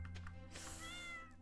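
A pet cat in the farming game Stardew Valley gives a single soft meow, a short rising-then-falling call over a low steady game background hum.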